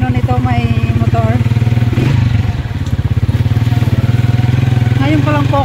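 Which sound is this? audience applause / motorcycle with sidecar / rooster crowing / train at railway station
motorcycle with sidecar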